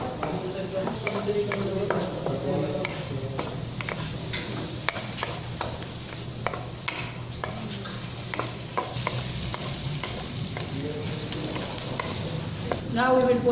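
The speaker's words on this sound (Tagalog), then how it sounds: "Preheat the oil in the pan. Saute the garlic," Garlic and onion sauté in hot oil in a pan with a continuous close sizzle, while a utensil scrapes and taps against the pan in irregular strokes; a voice talks intermittently over the frying.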